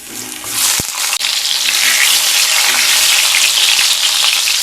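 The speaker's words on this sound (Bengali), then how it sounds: "তেল গরম হয়ে গেলে পটলগুলো ভেজে নেব।" Pointed gourd pieces frying loudly in hot mustard oil in a kadai, a dense, bright sizzle that swells after a sharp clink and then holds steady and close.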